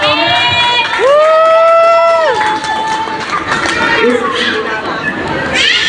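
Children and adults at a kids' English fun day in a shopping mall cheering and shouting loudly, a lively crowd roar with a long high shout rising above it.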